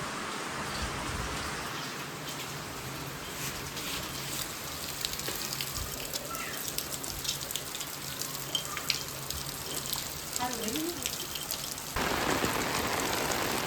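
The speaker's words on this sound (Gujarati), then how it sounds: "વરસાદ ફૂલ ચાલુ છે" Steady rainfall pours down in a broad, constant hiss of drops on surfaces throughout, with scattered nearby patter and a slight swell in intensity toward the end.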